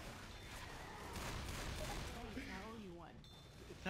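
Gunfire in the zombie shooter Left 4 Dead 2: dense bursts of shots early on, blending into a busy, noisy in-game mix. Voices come through over the later part.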